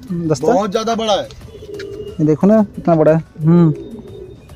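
A large pigeon coos under close conversation between men, with several short throaty coos breaking through the talk near the handler.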